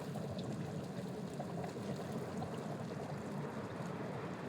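Volcanic gas bubbles up through water on White Island, a steady low churning gurgle with a constant rushing texture, moderately close and unbroken throughout.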